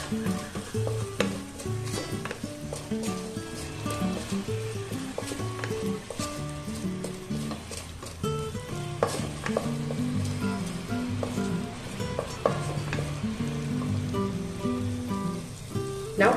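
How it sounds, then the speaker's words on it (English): Dal with salt being stirred in a hot pan: loud, continuous sizzling crackle with repeated scraping and clinking of a spoon against the pan throughout, close and busy. "We'll give this a mix."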